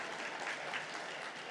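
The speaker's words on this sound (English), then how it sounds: "Round of applause for all the designated schools and redesignated schools." Conference audience at a cybersecurity designation ceremony breaking into applause, a dense continuous wash of many hands clapping at moderate volume, with no talking over it.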